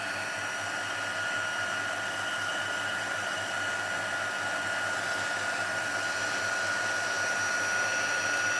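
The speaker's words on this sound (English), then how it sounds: "Let's bring the heat tool in and we'll just quickly heat that." A handheld craft heat tool blows hot air to melt embossing powder, making a steady, fairly quiet whirring hiss like a small hair dryer that runs unbroken from start to finish, with no voices over it.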